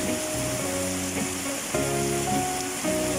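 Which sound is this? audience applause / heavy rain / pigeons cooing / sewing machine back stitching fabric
heavy rain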